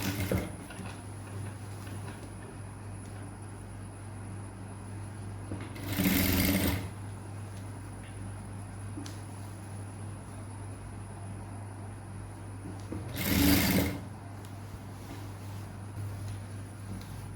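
A sewing machine stitches a seam on an umbrella-cut skirt, a steady mechanical whir under a constant hum, with two short louder bursts of fast stitching.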